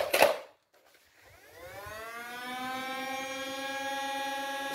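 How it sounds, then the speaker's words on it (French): After a short thump and a pause, the flywheel motors of a Nerf Halo MA40 blaster whine up, a rising electric hum that climbs in pitch and settles into a steady, fairly faint whir. "il faut attendre longtemps pour que les moteurs se lancent."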